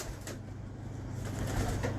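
Pigeons coo softly in a pigeon keeper's loft, low murmuring calls repeating under a steady background hum, fairly close.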